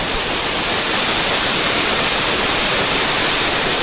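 Roaring, unbroken splash of rain-fed waterfalls in the Konkan region during the monsoon, close and full, alone without any talking.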